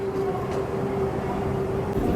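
Steady low rumble of a rapid train at Haneda Airport, Japan, with a sustained mechanical hum, heard up close and continuous.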